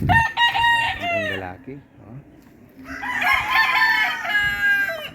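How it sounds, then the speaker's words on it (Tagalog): Backyard roosters crow loudly and close by, with two long harmonic calls separated by a brief pause, while someone talks softly underneath. "Dami pala itong manok dito guys."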